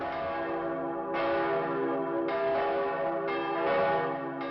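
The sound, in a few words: church bells ringing out to announce relief of siege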